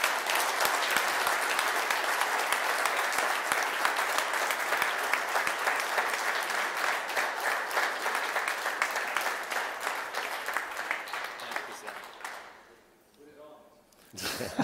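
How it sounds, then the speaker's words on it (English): A large audience bursts into sustained, dense applause at a leadership talk as a man is presented with a Green Beret, loud and steady for about twelve seconds before thinning out and tapering off near the end. "give him a round of applause"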